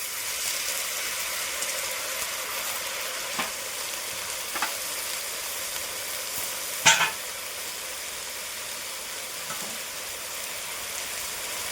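Amaranth leaves sizzle steadily in a hot pan of masala for pulao, a soft continuous frying hiss with a few sharp clinks of the stirring spoon, no voices.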